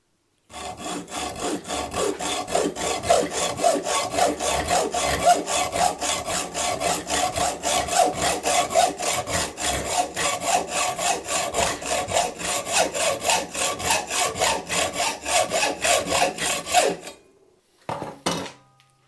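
A hand saw cuts a lump of nut blank material for a guitar in a steady rhythm of close, rasping back-and-forth strokes for about seventeen seconds, followed by a few final short strokes.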